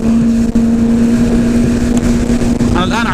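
A jet ski engine runs at high speed as a steady, loud droning whine under rushing wind, with a brief voice near the end.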